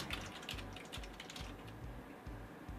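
Quick clacking keystrokes on an old computer keyboard, close and fairly quiet, tapping in an irregular, steady stream with no voices.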